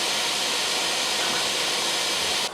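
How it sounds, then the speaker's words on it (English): Steady loud broadband whir from a Bambu Lab 3D printer during its nozzle tip cleaning routine, a constant hiss-like rush that cuts off abruptly at the end. "It has in fact accurately switched to cleaning nozzle tip"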